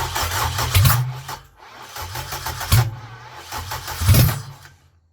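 A K-swapped Honda Civic EJ9 engine cranks in three loud bursts with pauses between them, each one chugging and catching briefly before dying away, heard close up.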